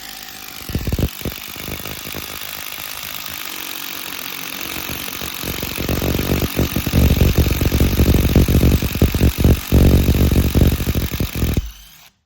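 Close, loud power drilling in a contractor warehouse during ductwork installation, starting softly and growing rougher and stronger midway, grinding on with irregular bursts before cutting off near the end.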